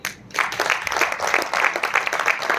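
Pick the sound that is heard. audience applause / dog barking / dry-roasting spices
audience applause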